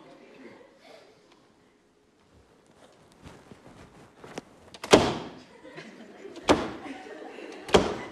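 A door is pushed and pulled the wrong way, starting with faint shuffling and rattling, then three sharp, loud bangs spaced a second or so apart as it jolts against its frame, with voices faintly present.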